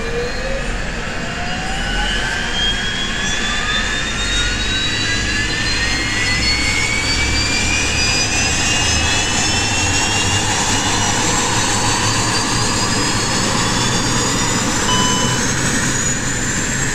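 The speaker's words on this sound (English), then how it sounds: "Starter engaged. Engine 2." Engine 2 of a Dash 8 Q400 turboprop spools up in the X-Plane 10 flight simulator, a loud, continuous turbine whine that rises steadily in pitch over a constant low roar, with no voices.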